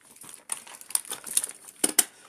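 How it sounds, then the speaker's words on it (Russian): Manicure foil handled at a nail station, bursts of sharp close crinkling and crumpling in quick irregular clusters, fairly loud with short pauses between. "Здесь у меня фольга"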